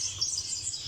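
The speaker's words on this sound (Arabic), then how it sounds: "هذا جاردن بلو، جاردن بلو" Cordon-bleu finches in an aviary give a continuous, high, thin chirping that holds steady and fairly close throughout.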